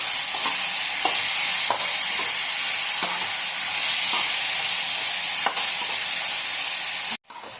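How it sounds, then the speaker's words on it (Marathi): Tomato and onion frying together in a pan for an egg masala fry, a steady loud sizzle and hiss with faint stirring scrapes, running alone and cutting off abruptly near the end. "त्याच्यामध्ये आता टोमॅटो टाकून द्यायचं आणि हा पण चांगला थोडा भाजायचा"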